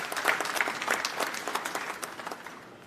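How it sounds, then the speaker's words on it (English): Audience applause at the inauguration ceremony of a jewellery trade show in Mumbai, a full wash of many hands clapping with individual claps standing out, gradually tapering toward the end. "Once again, a huge round of applause for him,"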